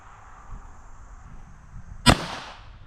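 A single sharp, loud 9mm pistol shot is fired at an epoxy-coated boat hull outdoors, a sudden crack with a short ringing tail after a stretch of quiet background noise.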